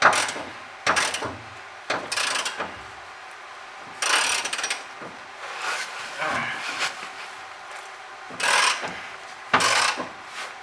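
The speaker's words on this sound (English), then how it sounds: "So you got your 17 socket. I'm running a 1/2 inch drive to ratchet with an extension." A 1/2-inch drive ratchet with an extension and 17mm socket works on fuel tank bolts under a Nissan 240SX, giving bursts of rapid clicking in several separate runs, fairly close, with brief pauses and faint talk between.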